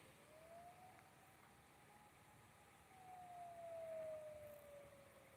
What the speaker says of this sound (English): Yeah, siren just went off.